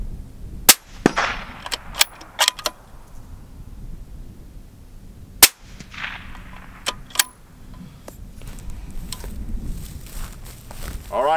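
A 6mm Creedmoor rifle fires into dirt outdoors in a crosswind, giving a sharp report around the middle, with smaller transient clicks and handling knocks before and after over steady wind noise.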